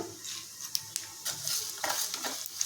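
Mustard seeds crackle and spit in hot oil, a scattering of sharp little pops over a soft sizzle, with light clinks of a pan.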